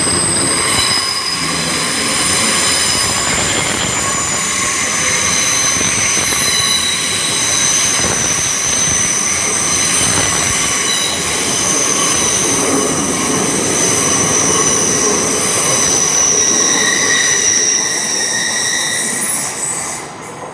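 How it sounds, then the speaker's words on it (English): A nine-carriage Class 802 IET pulls out of London Paddington on an Oxford service, its wheels squealing loudly and continuously over a heavy rolling rumble for about twenty seconds before easing slightly at the end. "departing out now is a service to Oxford, formed of a 9-carriage IET"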